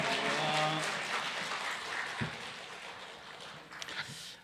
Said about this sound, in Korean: 박수와 할렐루야로 함께 맞이하도록 하겠습니다